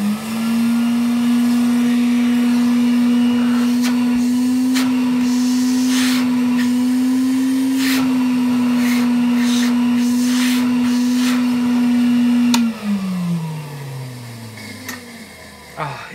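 A 1961 BYLOC table vacuum cleaner with a dry motor runs with a steady loud hum for about twelve seconds, then winds down with a falling pitch as it switches off.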